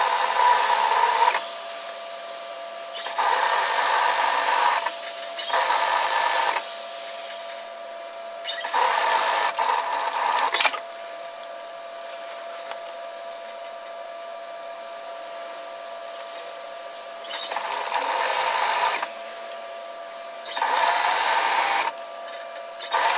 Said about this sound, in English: I'm stitching through that overlocking serging line